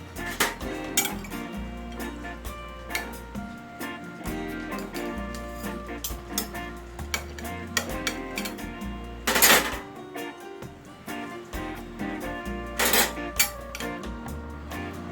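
A sweet potato Spanish tortilla is cut and a piece lifted out, with repeated clinks and scrapes of cutlery against a plate or pan, close and irregular, plus a louder clatter partway through.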